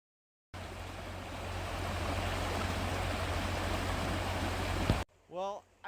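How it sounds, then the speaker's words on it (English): Chenevis Creek in upstate New York runs steadily beside a rest area, a broad rushing wash of water for several seconds, then it cuts off and a voice speaks briefly. "I stopped at a rest area and I heard water running"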